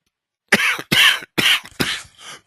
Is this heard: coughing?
yes